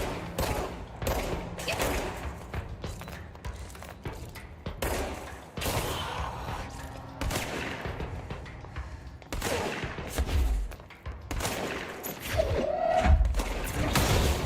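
Bursts of gunfire from the video game Control fire repeatedly across the whole stretch in rapid volleys with heavy thuds, loud and close, with no talk over them.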